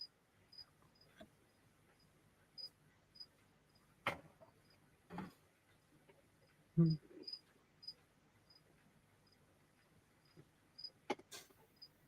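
Crickets chirp steadily in a quiet indoor setting, a faint regular high ticking pulse running throughout, broken by a few louder scattered clicks and knocks nearby.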